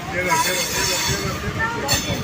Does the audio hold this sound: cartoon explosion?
no